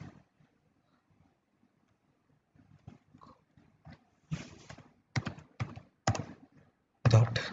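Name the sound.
typing on a computer keyboard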